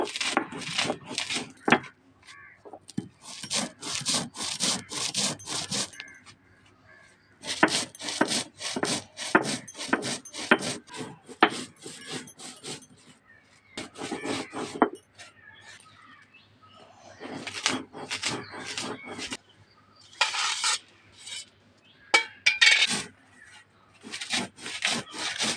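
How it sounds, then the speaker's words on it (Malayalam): Ginger crushed on a traditional stone grinder, heard as close, rhythmic scraping and rubbing strokes in long bursts separated by short pauses, with faint birdsong in the background. "ഇഞ്ചി പൊടിക്കുവാണ് അരകല്ലെ വെച്ച്."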